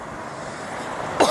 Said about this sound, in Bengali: আমার প্রচুর কাশি করেছে,